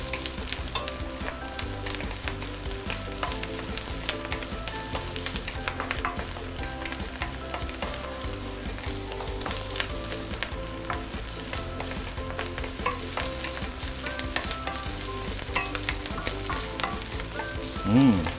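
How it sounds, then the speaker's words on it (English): Garlic fries in oil in a wok for Singapore Hokkien prawn mee, with a dense, continuous loud sizzle and the occasional clatter of a utensil stirring. "Fry some garlic. You should have a lot of garlic here, yeah?"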